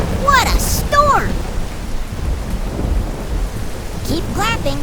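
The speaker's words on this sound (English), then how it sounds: "What a storm!" Thunderstorm with low rumbling thunder and steady rain, continuous and fairly loud, with a few brief whistly tonal sounds over it.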